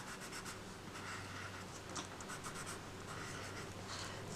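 A Stabilo-All pencil, soft and slightly waxy, writing on manila file-folder card and scrapbooking paper: faint, close scratchy strokes rub steadily across the surface in a quiet room.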